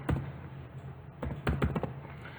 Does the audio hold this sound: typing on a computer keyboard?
yes